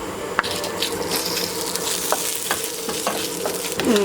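Mustard seeds, urad dal and dry chili splutter in coconut oil, a constant close sizzle dotted with small pops and crackles plus occasional stirring scrapes, heard without talk.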